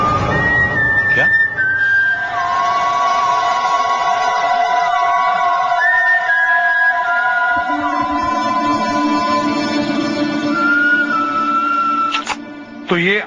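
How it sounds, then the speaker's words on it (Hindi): A person whistles a song tune, sustained and melodic and loud, with clear pitch changes over a steady background hum and some low noise, in a crime drama scene. "आप सीटी बहुत बढ़िया बजाते हो"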